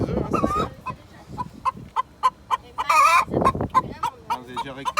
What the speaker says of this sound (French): Pourquoi ça caquette? Ça pond.